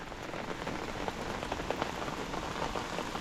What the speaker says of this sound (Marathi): सकाळपासून खूप पाऊस पडतो आहे